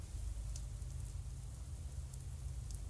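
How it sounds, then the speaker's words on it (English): Steady cold winter rain hammers a gate's rain gutter in Fate/Stay Night, a dense, even hiss of drops with a low rumble underneath, constant throughout. "Cold winter rain hammers the gate rain gutter."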